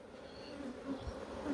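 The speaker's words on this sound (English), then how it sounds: "Got a bee trying to sting me now." A honey bee buzzes close by in an open beehive setting, a steady droning hum with a slight wavering pitch that stays near and fairly loud throughout.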